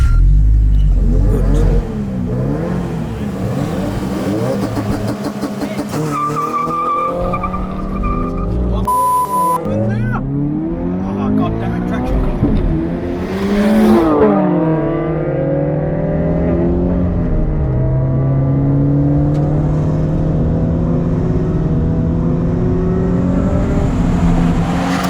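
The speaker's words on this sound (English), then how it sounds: "So I'm going to try and use this and get a better launch and hopefully try and beat him down the drag race." A car launches hard in a drag race with traction control off, engine revving loudly through gear changes, tires squealing briefly, then a long sustained high-rpm pull as it accelerates down the strip.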